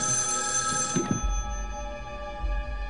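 A telephone bell rings late at night indoors in a period wartime drama, a loud steady ring that cuts off after about a second and leaves a quiet room hum.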